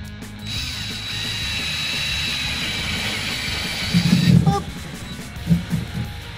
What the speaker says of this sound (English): all I'm gonna do is just drill a hole straight through the drywall to the other side